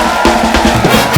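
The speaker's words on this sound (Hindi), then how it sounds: "एक बार हेजल और युवराज के लिए जोरदार तालियां।" Loud, dense applause and cheering from a studio audience on a comedy talk show fills the moment, continuous and close, with no talking over it.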